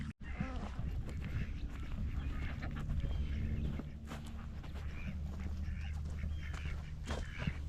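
Ducks quack on and off near pigs on freshly rooted earth in a garden, with fairly faint calls over a busy low background rumble.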